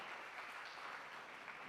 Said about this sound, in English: So everyone, please give a round of applause to the group